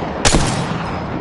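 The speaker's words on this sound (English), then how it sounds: "They spotted me. I'm taking shots." A loud burst of gunfire in the Apex Legends game, one sharp blast followed by a rapid rattling tail that decays quickly, heard alone.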